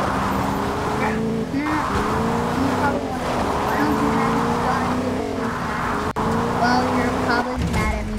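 A vehicle drives in Fortnite, its engine a steady humming drone that shifts pitch as it accelerates and eases off, with a player talking throughout.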